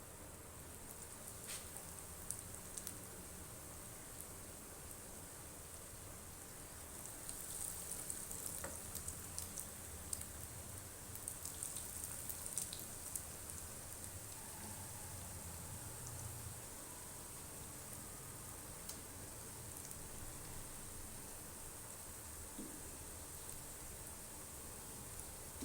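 Potato donuts frying in hot oil in a pan over low-to-medium heat, a faint continuous sizzle with soft crackles and occasional ticks, no talk.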